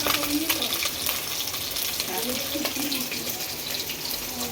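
Pabda fish frying in a pan, a dense continuous sizzle with sharp crackles and pops, close and loud throughout, with a voice talking faintly underneath.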